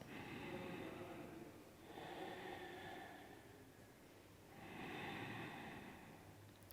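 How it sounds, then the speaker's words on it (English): Long, slow Ujjayi yoga breaths with an oceanic hiss, three drawn-out breath cycles close to the ear, steady and calm, with no talking. "take 5 calming, long Ujjayi breaths"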